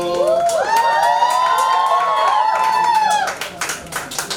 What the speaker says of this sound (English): Round of applause for everyone who came in this venue.